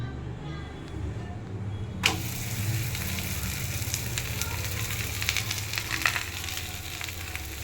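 Methi paratha sizzling on a hot pan with oil, a steady broadband frying hiss that jumps louder about two seconds in and continues with small crackles, while someone talks over it.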